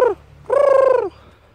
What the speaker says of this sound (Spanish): El hogar de los cuervos.